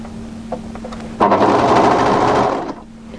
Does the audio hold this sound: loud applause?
no